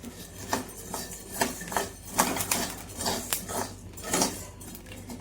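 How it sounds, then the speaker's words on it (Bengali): Roasted rice is mixed by hand with onion, chili and mustard oil in a metal bowl, giving irregular scraping and clinking of utensil against metal at close range, with short bursts and pauses. "পেঁয়াজ লঙ্কা আর সরষের তেল দিয়ে চালটাকে মাখতেছি"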